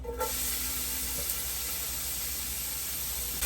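Vidalia onions hit a hot pan with a steady, close sizzling hiss that carries evenly through the moment, with no voices.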